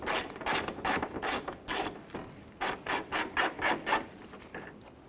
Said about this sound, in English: Let's go ahead and remove our 10mm bolt, securing the bumper bracket in place here.